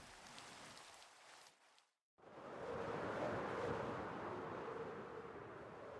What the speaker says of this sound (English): It's annoying for me to see it with the rain.